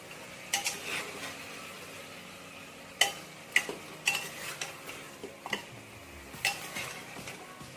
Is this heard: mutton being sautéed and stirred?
yes